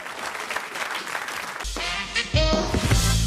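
Steady studio audience applause on a French Europe 1 radio comedy show fills the space, then music swells in partway through while the clapping continues underneath.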